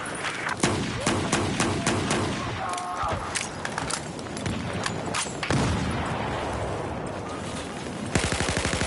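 Rapid gunfire bursts and repeated shots crackle through a shooter video game match, dense and loud throughout, with a sharper burst of fast automatic fire near the end.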